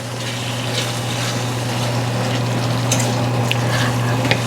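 Ground meat for shepherd's pie cooks in a pan with a steady, close sizzle and bubbling hiss under a constant low hum, with a few faint clicks near the end.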